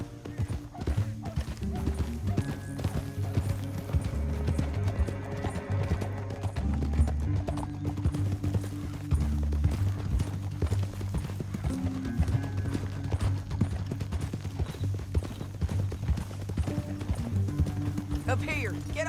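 Horse hooves clip-clopping in Red Dead Redemption 2, a steady rhythmic trot running throughout beneath layered game music and ambience, with voices talking over it.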